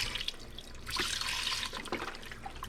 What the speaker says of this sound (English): I'm going to add 1/4 of organic chicken broth that's low sodium.